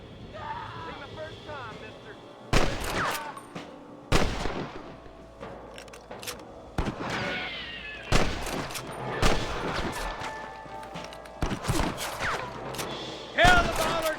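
Gunfire in the Western video game Red Dead Redemption rings out in repeated sharp bursts and single loud shots spread across a fight, with game voices talking between the volleys.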